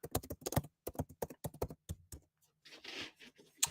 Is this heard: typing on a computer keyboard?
yes